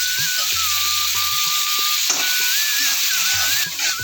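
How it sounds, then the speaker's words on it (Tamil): Onions sautéing in a pan for a stuffed bitter gourd dish, giving a steady close hiss and sizzle throughout with light stirring scrapes underneath. "பார்த்திங்கன்னா இப்போ நம்ம வெங்காயம் நல்லா வதங்கிடுச்சு"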